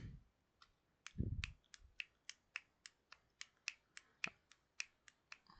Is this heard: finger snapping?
yes